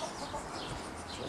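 Muscovy ducks calling on a farm where a brood of ten-week-old ducklings is kept, giving a steady, close flurry of low clucking and chattering calls that continues throughout without a break.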